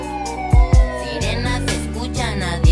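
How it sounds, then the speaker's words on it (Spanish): Police siren sound effect wailing in rising and falling sweeps inside a Spanish-language urban song, loud and layered over thumping bass beats. "sirenas se escuchan a diario."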